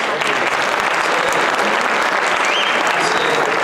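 Steady, dense applause from a conference audience, continuous clapping filling the whole moment without pause.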